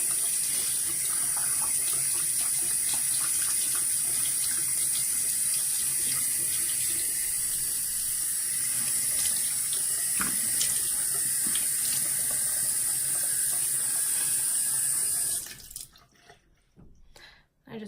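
Warm water running from a tap into a bathroom sink, a steady loud close gush that continues for about fifteen seconds before cutting off, followed by a few faint drips and handling sounds.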